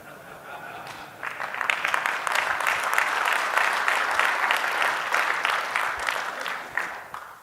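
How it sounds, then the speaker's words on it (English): An audience at a tech conference keynote breaks into applause, a steady wash of clapping that swells after a quiet start and holds at moderate level before thinning out near the end. "That is a sad thing to clap to."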